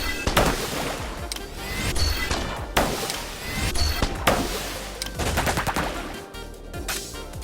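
Foam blaster shots in the FOAMSTARS video game, single trigger-pull shots and charged shots firing in rapid, punchy bursts, loud and dense with no pauses across the stretch.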